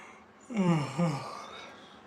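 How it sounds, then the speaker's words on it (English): A single yawn close to the microphone, a drawn-out voiced exhale in two swelling pulses, heard against a quiet background with no talk. "Did anybody catch that yawn?"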